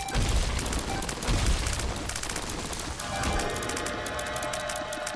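Rapid repeated shots from turrets in The Binding of Isaac: Repentance, a continuous loud volley of popping fire with small booms, steady throughout with no talk.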